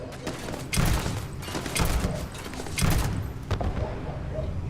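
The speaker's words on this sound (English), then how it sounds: "Somebody's throwing nades." Grenade blasts and a dense crackle of gunfire in the video game Fallout, heavy thumps rising over constant rattling shots in a chaotic firefight, with a voice faintly underneath.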